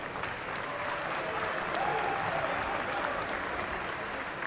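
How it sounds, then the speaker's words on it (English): Steady crowd applause fills an arena after a hybrid-rules cage fight, sustained and fairly even throughout with a slight swell in the middle. "Could we please have a round of applause for these two warriors?"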